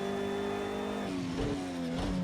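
A Bentley Speed 8 race car in Project CARS 2, driven at Bathurst: a steady high engine drone that drops pitch on a gear change near the middle, then revs back up and wavers, loud and close with no talk.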